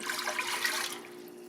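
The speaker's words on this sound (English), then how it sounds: "we're going to put only about 2 cups of water in this pot" Water runs steadily into a cooking pot on a stovetop for about two cups' worth, a soft broadband splashing rush that eases off toward the end.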